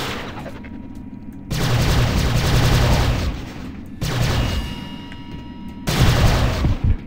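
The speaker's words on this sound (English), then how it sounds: "Now who's shooting at me?" Gunfire from Prey (2006) rattles in dense, sustained bursts, swelling louder in waves with deeper booming thumps underneath, continuous across the whole stretch with no voices.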